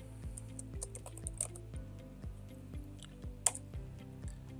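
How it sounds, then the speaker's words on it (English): Quiet typing on a computer keyboard while editing a report template in software, a run of light irregular key taps close to the mic with no talk. "and just type in whatever I want"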